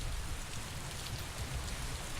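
Steady rain in the video game Mass Effect 3, a dense, even hiss of falling drops with a low rumbling bed, continuous and fairly close throughout with no breaks.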